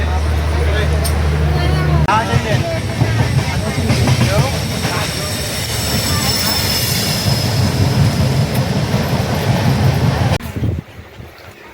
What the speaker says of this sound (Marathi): ट्रेनमध्ये बसली आहे आणि मजा घेते ती ट्रेनची मध्ये बसून